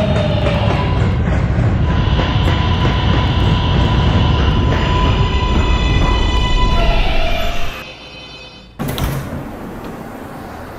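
An R143 subway car on the R line rumbles loudly along the track, then slows with a falling motor whine to a brief near silence before a sharp hiss, with no talk.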